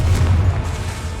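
Confringo blasting spell exploding in Hogwarts Legacy combat, a short loud boom with a heavy low rumble filling the moment.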